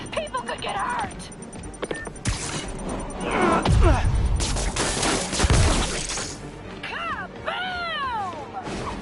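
Bombs exploding in a Spider-Man video game, heavy booms and crashing blasts rolling through busy game audio, with a voice talking and whooshing effects around them.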